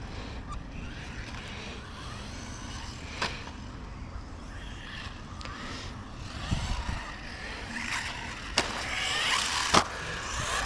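Hosim M13 RC truck driving over a small outdoor track, with a steady whirring motor and scattered bumps and clatters as it rolls across rough ground, heard continuously at moderate level.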